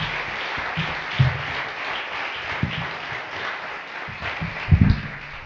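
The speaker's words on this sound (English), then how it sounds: "Give Scott Budnick a round of applause." An audience at a live talk event gives a round of applause, a steady rush of many hands clapping at moderate level with a few louder bumps and knocks along the way.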